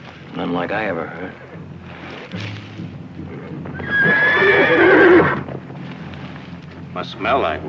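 A stallion neighs loudly in a whinnying burst near the middle, with other horse snorts and hoof sounds around it in an outdoor setting with wind.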